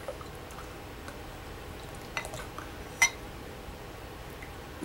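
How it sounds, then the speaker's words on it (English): North Coast Scrimshaw Pilsner poured into a big glass, a steady soft fizzing wash with a few faint drips and clinks, close and alone without talk. "let me get this poured"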